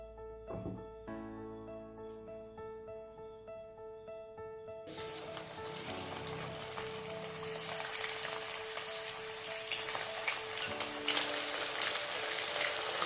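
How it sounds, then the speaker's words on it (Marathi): Spice-coated mandeli fish frying in hot oil, starting with a sudden loud sizzle as the fish goes in and continuing as a steady crackling hiss, with some music faintly heard before it. "बस एवढीच आपण एका वेळेला फ्राय करून घ्या."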